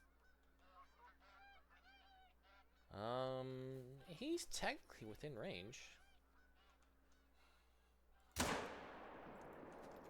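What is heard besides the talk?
geese honking in The Hunter: Call of the Wild video game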